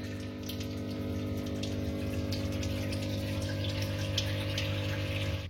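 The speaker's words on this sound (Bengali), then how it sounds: "এই যে অ্যাকোরিয়ামে জল ভর্তি হচ্ছে উপরের অ্যাকোরিয়াম থেকে" Water steadily pouring into an aquarium through a suction pipe from a tank above, a continuous close trickling gush over a low pump-like hum, alone without talk.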